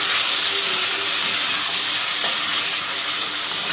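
Cuttlefish searing in a hot pan, a loud continuous sizzle and hiss of frying, close and steady throughout with no talk.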